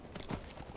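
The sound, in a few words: horse hooves clip-clopping in video game Skyrim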